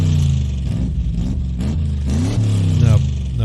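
A car engine revving, likely a Ford Taurus, with rising and falling mid-pitched roars and a sharp climb near the end, loud and close.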